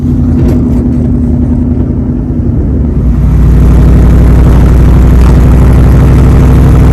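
A car drives on the road after a front shock and brace install, its engine a loud, steady low drone close to the microphone that swells and holds after a brief dip, with no talk.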